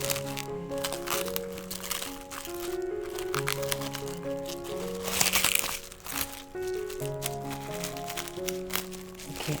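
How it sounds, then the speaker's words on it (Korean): A clean, new plastic bag crinkles and crackles as hands spread it out and press it flat, with repeated crumpling bursts over light background music. "랩이 없다면 비닐백 깨끗한 걸 새 거 넣어서 이렇게 깔아줘도 돼"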